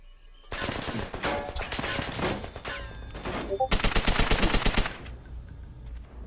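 MP40 submachine gun fire in a Call of Duty match, loud rapid bursts of automatic shots stacked into one long sustained volley, then a sudden cutoff into quiet.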